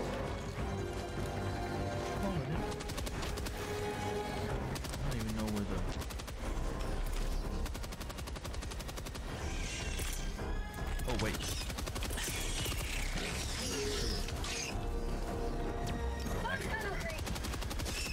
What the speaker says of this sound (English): Fires the gun.